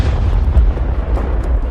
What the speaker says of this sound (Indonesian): tiba-tiba, di atas langit di lorong hitam yang gelap, sebuah ledakan tiba-tiba terdengar.